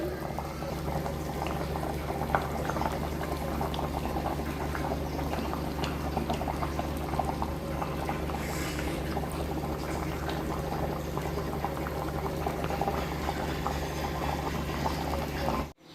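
Chicken curry with coconut added, boiling in a pot, gives a steady, close bubbling simmer that continues evenly throughout with no talking.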